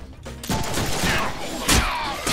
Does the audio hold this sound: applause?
no